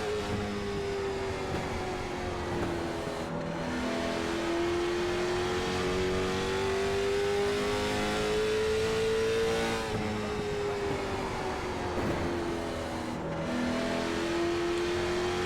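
Race car engine in the iRacing sim at North Wilkesboro Speedway, a steady loud drone whose pitch rises and dips as the throttle is worked, with small lifts around corners, continuous and close throughout.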